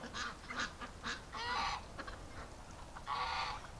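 A group of ducks and geese honking and squawking in bursts in winter, fairly close, with short pauses between calls and no talking.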